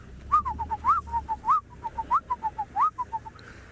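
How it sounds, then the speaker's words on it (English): Pair of black-collared barbets duetting in the background at a safari site, a rhythmic run of repeated whistled notes, moderately faint, with no talking. "you can hear the black-collared barbet duetting in the background"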